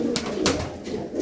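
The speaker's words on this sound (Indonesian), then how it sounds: "ini juga kemarin merpati yang pilek ya, ini sudah kelihatan segar ya" A domestic pigeon recovering from a cold coos close by, a few soft low throaty calls repeated in quick succession with no talk.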